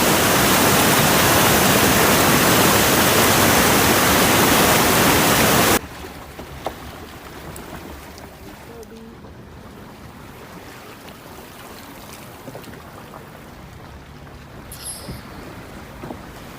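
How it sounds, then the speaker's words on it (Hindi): Loud rushing river water roars steadily in Naran for the first six seconds, then cuts to a much quieter, calmer outdoor ambience with faint scattered sounds. "इस पानी के शोर को और इस पानी की आवाज़ को फील करें"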